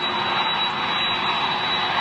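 An American 767 touching down at Manchester International Airport roars as a loud, steady broadband jet rumble with a thin whine on top, filling the whole short stretch without a break.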